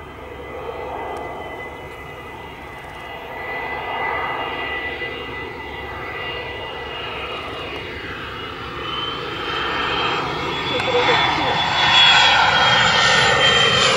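A fixed-wing airplane approaches an airport to land, its engine drone steady and gradually swelling louder as it draws nearer, heard alone without talk.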